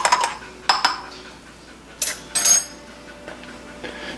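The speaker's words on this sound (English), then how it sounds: "I give it a little stir" A spoon clinks against a small Nespresso espresso cup while stirring in sugar, a few sharp metallic taps spaced apart with quiet scraping between them, close and fairly soft.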